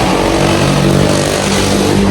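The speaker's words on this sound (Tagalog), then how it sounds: "Sorry, medyo maingay kasi tabing kalsada kami." Loud, steady roadside traffic with a motorcycle engine revving close by, continuous and dense throughout.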